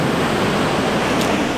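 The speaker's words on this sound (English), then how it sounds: "Hanging out with the waves." Ocean waves breaking on a beach near Trinidad, California, a steady loud wash of surf that roars without pause for the whole stretch.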